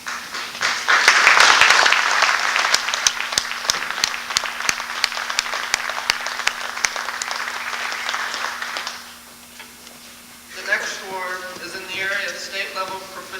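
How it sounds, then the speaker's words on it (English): Applause from a banquet audience at an FFA chapter's 50th anniversary evening, a dense, loud wash of clapping for about nine seconds that fades out before a voice begins speaking. "let's give these members a round of applause"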